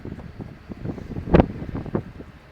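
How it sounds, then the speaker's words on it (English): Wind gusting against an outdoor microphone beside a 1958 Chevrolet Corvette, a steady rumbling buffet with one sharp, loud gust midway. "Little wind's picking up a little bit here."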